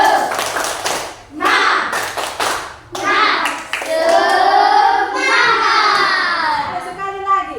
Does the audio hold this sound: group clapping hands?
yes